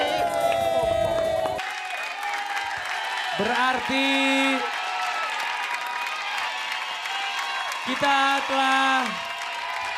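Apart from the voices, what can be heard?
studio audience applause and cheering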